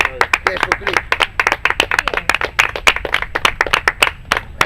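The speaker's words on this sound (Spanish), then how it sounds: "un aplauso al Señor de gloria, Jesucristo" A church congregation claps in a quick, uneven rhythm of sharp hand claps, loud and close, with voices chattering and calling out underneath.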